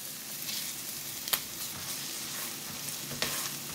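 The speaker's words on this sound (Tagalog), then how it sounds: "yung bawang, igigisa ko na din" Garlic sautéing in a pan gives a steady, fairly close sizzle with a couple of sharp clicks from the utensil, and no one speaks.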